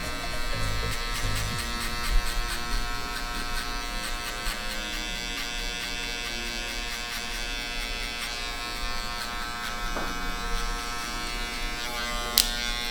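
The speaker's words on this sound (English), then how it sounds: "We're gonna come in with our clipper open and we're gonna start and make our first guideline." Electric hair clipper buzzing with the blade open while cutting the first guideline of a mid skin fade, a steady close hum running alone throughout with slight shifts as it moves against the head.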